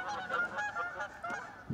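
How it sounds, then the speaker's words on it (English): Geese honk repeatedly in bright, nasal calls throughout, fairly close and steady, with a deeper honk near the end and no talk over them. "I hate geese."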